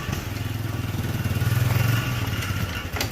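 An ATV engine with a small exhaust leak and a loosely bolted exhaust runs close by, a steady chugging rumble with a rhythmic pulse that swells slightly in the middle before easing back.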